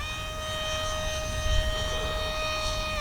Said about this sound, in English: Full throttle burst.